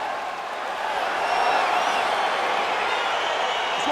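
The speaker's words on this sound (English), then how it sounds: "crowd getting excited as this fight gets underway" Crowd cheering in the UFC 4 video game before a fight, a broad, steady arena roar that swells slightly and holds, with no talk over it.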